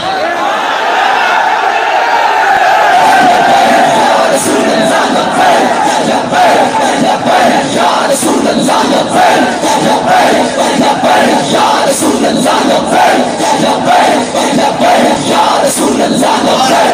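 A large crowd chants slogans in unison at an Urs gathering at the Data Darbar shrine. The roar stays loud and dense throughout with rhythmic rises, and voices blend into a continuous mass.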